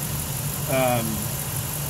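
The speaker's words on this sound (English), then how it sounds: "the engine's running nice and smooth" A Ford Triton engine idles smoothly with a steady low hum, and a person talks briefly over it partway through.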